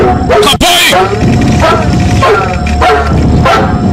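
A dog barks loudly several times in quick, uneven bursts, close by, amid a dense, noisy background.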